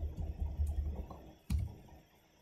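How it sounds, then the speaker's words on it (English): Someone types a password on a computer keyboard: a handful of quiet, separate keystrokes, the sharpest near the middle, with soft low rumble between them and no speech. "And then we'll type in our password."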